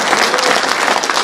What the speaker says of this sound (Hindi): अगर आपकी तालियां हो तो एक बार पुनः इस छंद को सुना जाए।